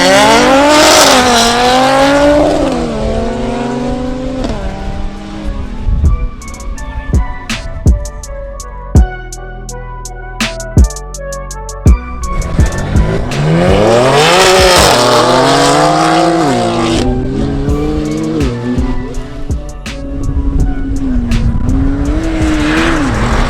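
Audi RS3 fitted with an Eventuri IMS850 setup on a top-speed run at a VMAX200 event, its engine loud and close, climbing through repeated gear pulls with a lull of sharp pops and crackles midway before surging again.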